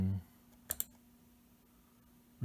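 Two quick, quiet mouse clicks in close succession on a computer while an Apple gift card is redeemed in iTunes, with near silence around them.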